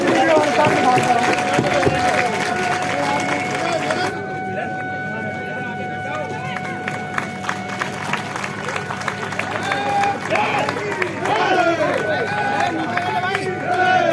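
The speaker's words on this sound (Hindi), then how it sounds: "तालियों के साथ आदरणीय मुख्य अतिथि महोदय का स्वागत करें" A large outdoor political rally where the Union Transport Minister speaks: the crowd applauds to welcome the chief guest, a dense, steady wash of clapping and crowd noise mixed with a voice over loudspeakers throughout.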